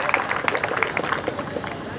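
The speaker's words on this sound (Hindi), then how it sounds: "तालियों के साथ उनका स्वागत" An audience at a union gathering claps to welcome guests onto the stage, a steady patter of many hands, fairly loud and close. A few voices mix in over the clapping.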